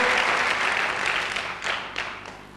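Audience applause at a motivational talk, loud at first and gradually thinning out, with a few distinct individual claps standing out as it fades.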